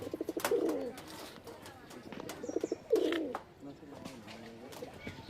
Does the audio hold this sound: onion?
no